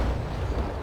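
Ship cannon fire in the naval combat game Naval Action: a loud, heavy low rumble of a broadside boom that rolls on steadily for the whole moment, with no talk over it.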